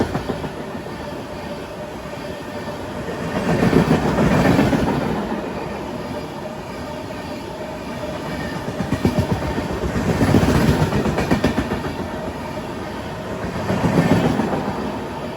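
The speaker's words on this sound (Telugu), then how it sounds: "గోదావరి ఎక్స్ప్రెస్ మన ట్రైన్ని ఓవర్టేక్ చేసుకుంటూ వెళ్ళిపోతుంది." The Godavari Express passes and overtakes a halted train near Ghatkesar with a loud, continuous rumble and clatter of wheels over rail joints, swelling and easing in regular waves as the carriages roll by.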